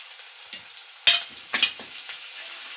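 Ginger garlic paste frying in a pan for a cabbage curry, a close hiss with a few sharp spatters and stirring clicks, the loudest burst about a second in.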